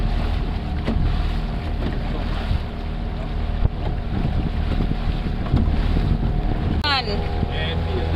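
A boat cruises across the Blue Lagoon in Portland, Jamaica, with a steady engine drone and heavy wind buffeting the microphone throughout, and a brief rising whistle-like tone near the end.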